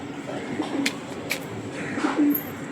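Soft cooing from a female Kalanka pigeon, a few low murmuring phrases close by against a faint background hiss, with no talk over them.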